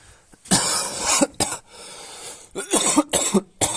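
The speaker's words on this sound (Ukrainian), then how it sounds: "Не кашляй" Several loud, close coughs in quick bursts, separated by short pauses, with no talking.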